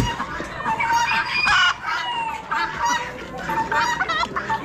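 Young roosters at an Amish livestock auction crow and cluck in a busy, overlapping chorus, several birds close by calling in loud bursts over a crowded background.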